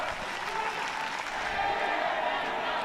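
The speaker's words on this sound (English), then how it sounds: "it's good to hear the crowd getting behind them" Big stadium crowd cheering and applauding steadily at an Asia Rugby Championship match, a dense, continuous roar that holds at an even level from start to finish.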